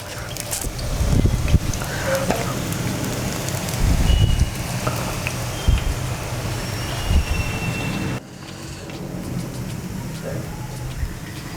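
Potato bhujia dough is pressed into moderately hot oil and fries in a steady, dense sizzle with scattered crackles and pops, loud and close, easing slightly near the end.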